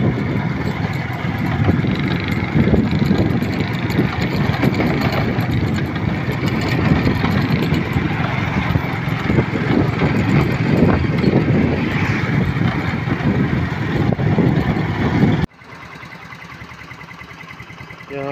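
A motorcycle engine runs steadily while riding along narrow mountain roads, a loud continuous drone with wind rush that cuts abruptly near the end to a quieter, thinner hum.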